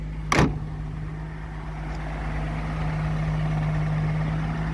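A 1933 Oldsmobile Six's engine idles steadily with a low, even hum, preceded by a brief sharp knock or clunk near the start, with no talking.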